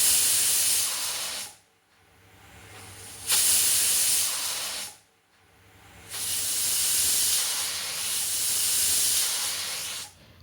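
A pressure cooker cooking lentils on a medium flame sends out loud, close bursts of hissing steam, three long surges separated by quieter gaps, each swelling and then fading away.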